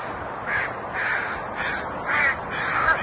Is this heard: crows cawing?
yes